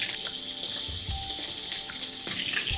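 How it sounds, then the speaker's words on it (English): Paneer sizzles and crackles in hot vegetable oil, a constant frying hiss with small pops, heard up close and without any talking. "Let's begin with frying the pieces of paneer"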